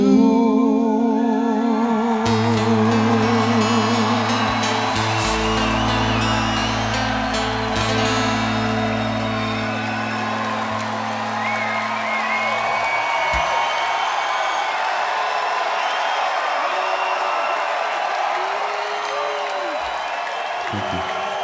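A Seattle concert crowd cheers and applauds for a band after a song. The roar and clapping run throughout, under sustained held guitar and organ notes that fade away partway through, and the level stays loud and steady.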